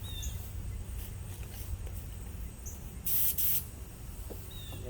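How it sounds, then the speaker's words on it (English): Short bursts from a spray can or spray gun applying paint to the interior of a 1984 Jeep CJ7, two close hissing blasts around the middle over a steady low background hum. "Let's see how this sprays."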